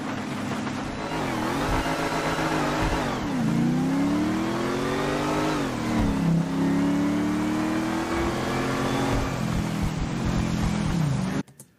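A Mercedes-Benz car engine in the GTA 6 video game revs loud and steady, its pitch rising and falling through repeated accelerations for about eleven seconds before cutting off abruptly at the end.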